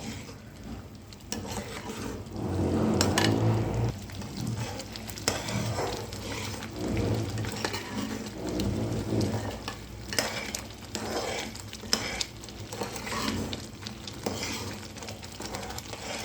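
Brown semolina halwa bubbles and sizzles in a pan while a spoon stirs it, giving soft, repeated scraping and thick simmering sounds at close range with uneven surges and no talking.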